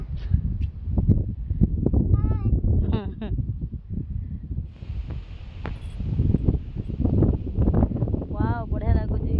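Gusty wind blows across an open rooftop, buffeting the microphone with rumbling bursts and rustle, while a voice talks throughout and birds chirp briefly.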